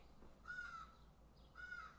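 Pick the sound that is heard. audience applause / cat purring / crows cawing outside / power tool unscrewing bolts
crows cawing outside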